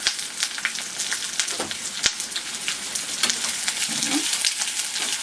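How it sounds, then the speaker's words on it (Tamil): Onions sizzle and fry steadily in a hot pan for a dry roast, a close, continuous crackle with occasional stirring scrapes throughout. "அதனால வந்து இந்த வெங்காயத்தை வந்து 2 வதக்குங்க போதும்."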